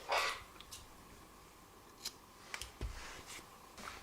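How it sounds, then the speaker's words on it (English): Scissors snip through crochet yarn at a square motif, giving a few soft, quick near clicks and a sharper cut in an otherwise quiet room. "then I'll cut this yarn."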